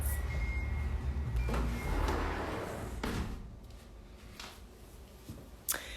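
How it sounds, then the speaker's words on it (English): A sliding glass door rolls along its track and shuts with a couple of dull knocks, over steady background noise that fades once it closes, with a small bump near the end. "I'm gonna shut my sliding glass door real quick because the noise."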